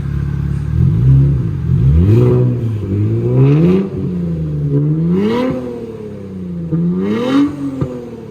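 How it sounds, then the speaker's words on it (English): A Nissan Z with a VR30 engine and upgraded turbos revs repeatedly through a muffled exhaust, with deep, loud, rising and falling sweeps heard up close and no talking. "I'm gonna rev it now."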